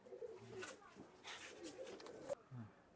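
Teddy pigeons coo softly nearby, low throaty calls repeating under a voice talking over them.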